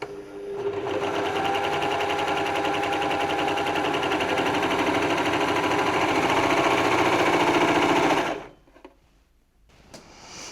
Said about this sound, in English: And we'll sew our rolled hem.